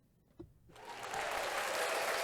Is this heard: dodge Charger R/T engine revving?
no